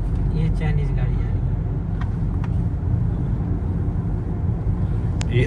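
An MG car rolls along, heard from inside the cabin as a steady low road and engine rumble beneath continuous conversation, with a few faint clicks and knocks.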